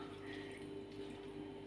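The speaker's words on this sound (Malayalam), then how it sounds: "അതുപോലെ ഇതിൽ വേവാൻ ആവശ്യമുള്ള വെള്ളം ഒഴിച്ചു കൊടുക്കുക." Water pours steadily into a cooking pot of cucumber kichadi, a faint, even splashing rush with no talk over it.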